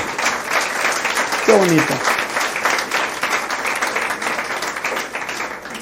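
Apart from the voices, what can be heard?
congregation applauding in church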